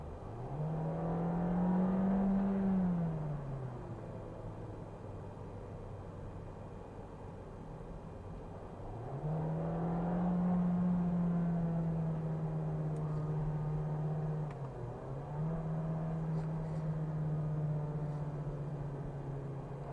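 A Volkswagen Golf hatchback accelerates hard twice, its engine note climbing through the gears with a brief dip at each shift, loud and close with no talking.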